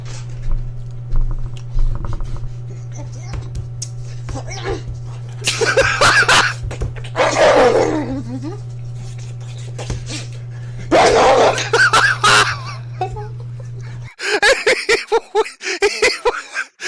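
A dog eats raw hot dogs, making wet gobbling and chewing bursts and soft whimpers over a constant low hum, with some voice in the background.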